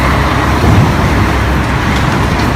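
Loud, steady road traffic rumble with a bus idling or pulling in close by, engine noise filling the scene.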